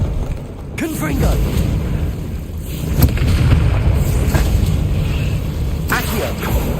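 A Confringo blasting spell from the Hogwarts Legacy video game goes off as a dense, rumbling burst with sharp crackles and pops, layered over busy game effects and a voice speaking throughout.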